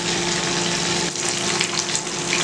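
Fish for a green chilli fish fry sizzles in a little oil, a dense, steady, close crackle that runs throughout with a slight bubbling lift midway.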